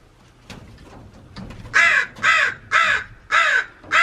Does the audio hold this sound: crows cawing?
yes